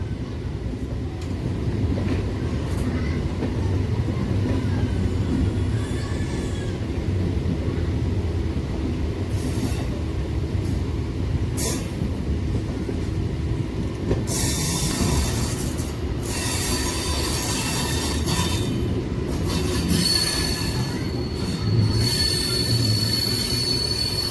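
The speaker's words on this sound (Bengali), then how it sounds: "আমাদের ট্রেন এবার তো পুরো জঙ্গলের মধ্যে দিয়ে যাচ্ছে" A local train from Howrah to Belur Math rolls through dense jungle, its steel wheels squealing loudly and steadily over a constant rumbling roar. Shrill screeches grow harsher near the end, with no talking.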